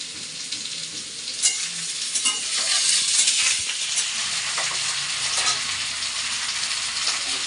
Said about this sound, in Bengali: এখানে লাল শাক ভাজা বসিয়ে দিলাম